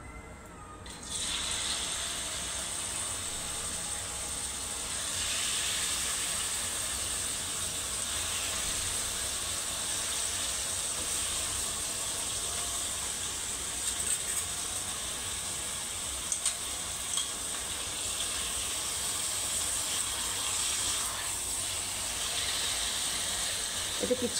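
Sliced chicken pieces fry in hot refined oil with no seasoning added, giving a steady, even sizzle and hiss that holds for the whole stretch, with faint scattered pops and occasional soft background sounds.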